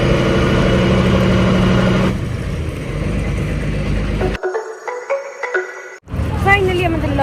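MV Jalpari, a passenger launch, arriving at a river ghat: a loud engine drone at first, easing after a couple of seconds, then cutting out to quieter bumps and clatter before noise returns.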